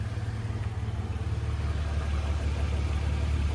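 A BMW E46 engine idles with a loose heat shield rattling, a low steady rumble heard close and fairly quiet, with no talk over it.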